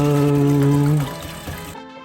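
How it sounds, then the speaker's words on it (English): Water pours from a tap or jug into the steel base of an Italian moka pot, a steady ringing stream for about a second that then breaks into a lighter trickle and stops. "Pour water up to the valve."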